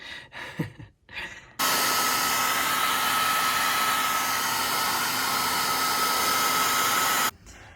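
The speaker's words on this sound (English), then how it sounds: "I'm just finally gonna go over these with my little hair dryer here on the high setting." A hair dryer runs loudly at high setting in a steady whoosh for several seconds, drying adhesive on acrylic-painted roller skates, then cuts off; brief rustling before it starts.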